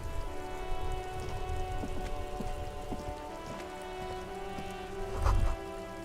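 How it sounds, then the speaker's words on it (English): Video game rain falling steadily on surfaces, a dense pattering hiss with scattered drop hits throughout, plus a brief low thump near the end. "Oh, hey, I just realized it's raining."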